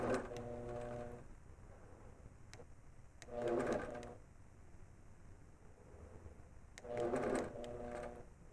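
Longarm quilting machine stitching quick tacking stitches while basting a quilt: three separate whirring bursts of stitching, each about a second long, spaced a few seconds apart over a low motor hum, with no talking.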